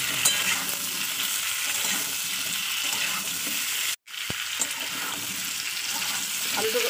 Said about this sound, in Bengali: এবার এই আলুটাকে একটু তেলে আমার ভেজে নিতে হবে।